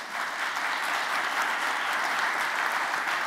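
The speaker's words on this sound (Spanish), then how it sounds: "Podemos terminar con un aplauso generoso para este panel." Audience applause for a panel at an international conference on climate crisis planning, a steady dense wash of many hands clapping throughout, loud and continuous with no talk over it.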